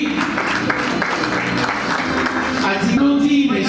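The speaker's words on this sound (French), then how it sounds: "Voilà, ça s'applaudit." Audience applause at a CHRM certification award ceremony in Togo: dense, loud, continuous clapping with a voice speaking over it, holding steady for the whole stretch.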